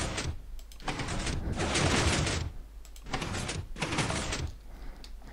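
Redstone up-and-down door in Minecraft moving in several loud mechanical bursts, a broad grinding whoosh that starts and stops in an uneven rhythm, close and with no talk.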